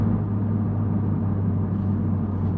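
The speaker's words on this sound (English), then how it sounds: "This is all road noise." Inside a Honda Civic Type R FL5 on Pilot Sport 4S tires with little sound insulation, a constant low tire roar and droning hum fill the cabin, steady and moderately loud throughout, with no one talking.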